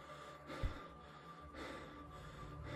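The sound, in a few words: someone breathing in a horror video game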